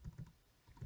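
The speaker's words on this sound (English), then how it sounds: "it has me type a code in 7729" Keys on an ultraslim Inateck Bluetooth keyboard are tapped to enter a short pairing code, giving four or five quick, close, soft clicks at an uneven pace.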